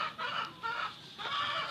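Chickens cluck and crow in short bursts on a rural farm in Laguna, Philippines, several repeated calls close to the listener with no talk over them.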